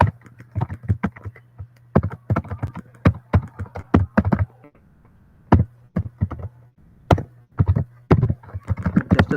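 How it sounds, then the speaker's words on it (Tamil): Rapid bursts of computer keyboard typing while coding in a web editor, uneven clusters of close, crisp key taps with short pauses, a low steady hum underneath and no speech. "ஜஸ்ட் ஆங்கர் டேக்ல கூகுள் டைப் பண்ணிக்கிறேன்."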